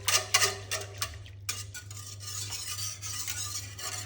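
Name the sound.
mixing ground rice paste batter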